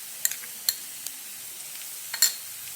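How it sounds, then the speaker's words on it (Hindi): Ground dry coconut, ginger and garlic frying in a pan for stuffed karela, a soft steady sizzle broken by a few sharp scraping taps of a spoon stirring close by. "2 मिनट तक हम उसे अच्छे से भून लेंगे"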